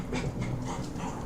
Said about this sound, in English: the dog is exceptionally excited for some reason